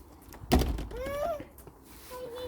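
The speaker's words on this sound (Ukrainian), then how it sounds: "закриті двері, відкривай" A house door opened at home, with a heavy thunk followed by a rising creaky scrape, and a faint voice in the background.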